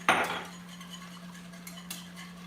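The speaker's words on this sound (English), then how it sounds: "keep whisking, keep whisking, keep whisking" A whisk strikes a pot with a sharp metallic clatter as sauce is worked toward a boil, then settles into a soft, steady scraping with a couple of light taps over a low background hum.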